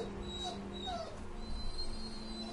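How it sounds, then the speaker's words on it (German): A pet dog whines faintly in the background of a room, soft drawn-out whimpers sitting under a steady hum of game sound. "im Hintergrund hört ihr gerade meinen Hund jaulen"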